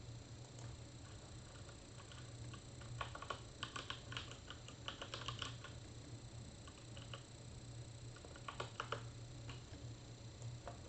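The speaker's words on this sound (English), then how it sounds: "So I bought this new keyboard because it's fast" Quick typing on a new, fast computer keyboard comes in quiet bursts of clicky keystrokes with short pauses between runs, close by and alone against a low steady hum.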